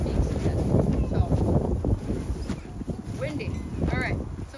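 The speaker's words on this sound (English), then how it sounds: "windy." Strong wind outdoors at a homestead buffets the microphone with a steady low rumble throughout, while voices can be heard faintly beneath it.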